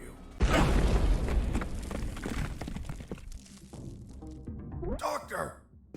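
A sudden loud boom erupts in the video game UnMetal, a deep blast that decays over a couple of seconds into rumbling debris, followed by a sharper burst and quieter game sounds.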